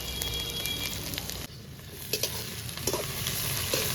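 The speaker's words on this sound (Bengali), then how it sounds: "পেঁয়াজ দিয়ে দিচ্ছি, পেঁয়াজটা একটু কষিয়ে নিচ্ছি" Onions, capsicum, tomatoes and green chillies frying in a pan, a steady close hiss of sizzling oil with a few stirring scrapes, and a brief dip in the sizzle partway through.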